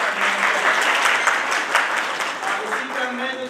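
Applause from an audience at a college prize ceremony as a student receives her award: a few seconds of dense, fairly close clapping, steady in level, with faint voices mixed in near the end.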